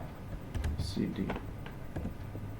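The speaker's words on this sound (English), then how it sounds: "or you can just type" Typing on a computer keyboard while a person speaks, with a few quiet, close key clicks and taps scattered under the voice.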